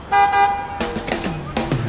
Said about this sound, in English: why don't you give him a honk?